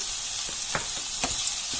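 Food frying in a non-stick kadai with a little salt added, producing a steady close sizzle punctuated by a few light clicks and scrapes as it is stirred.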